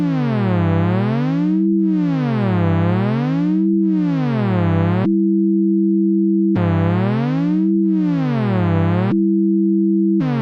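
A synthesizer tone sweeps smoothly up and down in timbre and pitch in repeating waves, crossfading phase distortion as well as pitch, broken twice by a steady buzzing held note.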